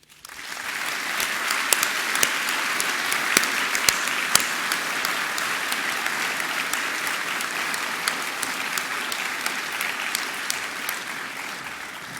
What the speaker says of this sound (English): I want to give you the chance to clap and thank everyone who has worked so hard to enable you to achieve your potential today